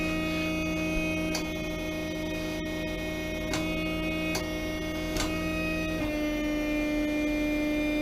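A homemade hydraulic forge press with its pump running, a steady mechanical hum with bright tonal overtones and a few regular clicks, shifting pitch slightly near the end, close and continuous with no talk.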